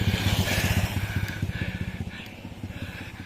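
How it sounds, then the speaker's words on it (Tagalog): A motorcycle descending a mountain road on Mt Parawagan, its engine putting out a rapid pulsing putter that is loud and close at first, then steadies and fades slightly as it rolls past. "Ayan, may lumulusong na motor."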